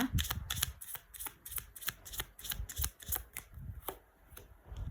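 Tarot cards are shuffled by hand in quick, rhythmic riffles, about a dozen sharp, close flicks in a row in a quiet room.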